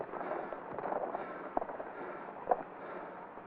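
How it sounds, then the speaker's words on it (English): Dynamite blast rendered as a dense, continuous rumble of debris noise, punctuated by two sharp cracks about a second apart, loud and close with no voices over it. "Think you used enough dynamite there, Butch?"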